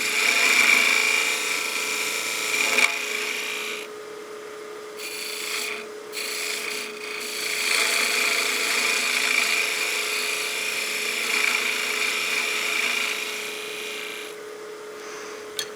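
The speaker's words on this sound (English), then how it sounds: "Now we can start shaping and getting the final taper we have here." Wood shaped with a turning tool on a lathe while making a bat house ornament, a continuous rasping, whirring scrape with a steady motor hum, close up, briefly easing and resuming several times.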